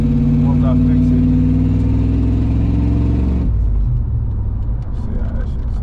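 A Ford OBS truck with a new exhaust revs loudly and close, its engine rumble rising and then dropping to a deep idle partway through.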